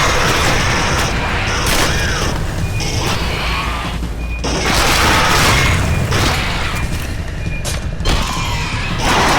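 A loud explosion in the Alien vs Predator video game, playing as the marines, booms amid a dense, continuous wall of crashing, rumbling game noise that stays loud throughout.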